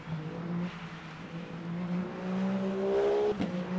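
A race car engine in the Le Mans Ultimate racing game drones and then revs up into a rising, tonal whine, sustained and fairly loud, with no talking.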